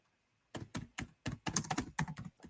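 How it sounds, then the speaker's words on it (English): Someone types on a computer keyboard nearby, a quick irregular run of crisp clicks and thunks with no talking, fairly quiet overall. "I'm typing something."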